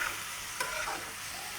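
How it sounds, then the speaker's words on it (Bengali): Chicken with spices, onion, green chili, garlic-ginger paste and salt fries in a pan, a brief steady sizzle with one quick stirring scrape. "লবণ দিয়ে একটু ভেজে নেব সুন্দর করে"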